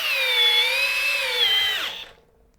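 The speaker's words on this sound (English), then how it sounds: "let's try the DCK on speed 2," DCK 12V cordless drill on speed 2 driving a screw, a loud, close, steady whine with a slight rise in pitch, then the motor winding down and stopping after about two seconds.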